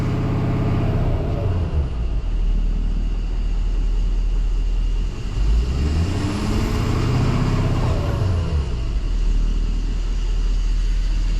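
A Ford 6.7 Power Stroke diesel truck engine, after rebuild, runs loud and close, revving down from about 2000 RPM and settling back to a steady idle rumble, with a faint whine rising and falling and no voices.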